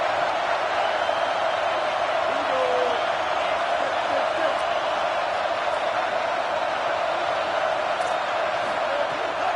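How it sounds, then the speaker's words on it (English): A stadium crowd roars at an Arkansas football game on third down, a dense, steady wall of distant cheering that holds without a break. "Decibels rising as the crowd gets behind this defense on 3rd down."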